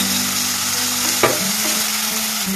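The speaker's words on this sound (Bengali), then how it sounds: "এই টমেটো কুচিগুলো, ভালো করে ভেজে নেব।" Chopped tomatoes fry in a pan with a loud, continuous sizzle and a single sharp clink of a utensil about midway.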